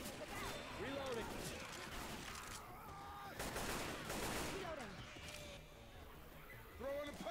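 Gunfire in a Left 4 Dead 2 zombie shooter round on the Dark Carnival campaign, dense bursts of shots crackling on and off amid game noise, with a voice heard among the shooting.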